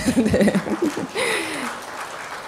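Audience applause at a lifelong-learning policy forum presentation in Gwangju rises in after a brief spoken word and continues as a steady, moderately loud patter to the end.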